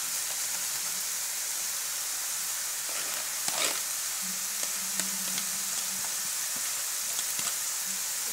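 Minced meat bolognese sauce with garlic is stirred in a pan for homemade lasagne: a soft, low background simmer broken by occasional spatula scrapes and light clinks, with no voices.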